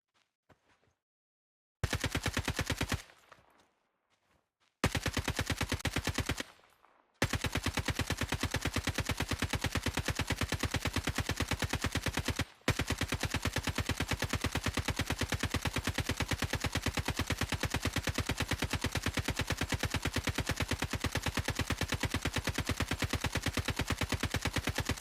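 Rapid automatic gunfire in Call of Duty Mobile DMZ, sustained and loud, with short bursts and pauses early on, then an unbroken stream of fast repeated shots.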